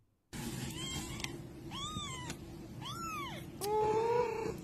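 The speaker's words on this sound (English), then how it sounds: "can we hear it meow?" A kitten gives a series of high, drawn-out meows, four or five separate cries close to the microphone over a steady background hum.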